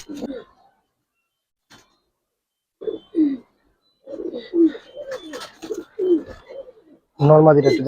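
Pigeons of fancy breeds, Gribaz and Military khaki, coo in short soft bursts near the birds, with several brief calls spread out and a louder, fuller coo at the end.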